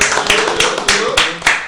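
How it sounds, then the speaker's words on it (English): Audience applause greets a guest in a radio studio, a short burst of dense clapping running steadily with loud, close hand claps and a few sharper accents. "let's give a round of applause for T Money for joining us, man."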